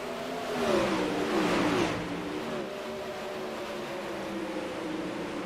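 A field of 360 sprint cars charges into turn one on a dirt track at Knoxville, the engines forming a loud, continuous roar that peaks early and then settles into a steady drone.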